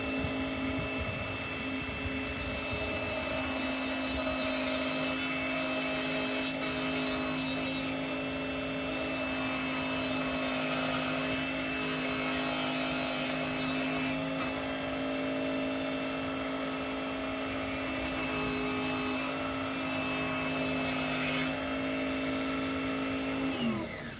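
A Tiger Teeth sharpener works a drywall saw blade with a continuous harsh rasping and grinding hum, loud and close, with brief pauses between strokes and no talk over it.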